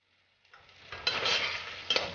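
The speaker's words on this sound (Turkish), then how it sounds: "karıştırıyoruz" Chicken sauté being stirred in a pan after salt, black pepper and red pepper go in, a soft scraping and sizzling that starts after a brief silence and stays close and steady.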